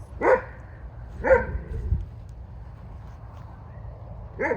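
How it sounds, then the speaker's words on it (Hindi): Wild dogs at the Kaya Inkalamo game lodge let out a few sharp barks and yelps, spaced apart at moderate distance over a steady outdoor background, with a brief low growl between them. "ये भी जंगली कुत्ते, आई मीन वाइल्ड डॉग्स"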